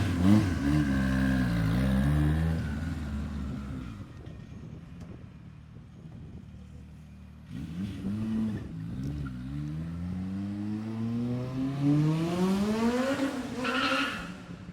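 A 580 HP turbocharged B-series engine revs hard on a dyno, its pitch climbing steadily through a gear, dropping back, then rising again to a screaming high-rpm peak. The engine is loud and close, with no talk over it.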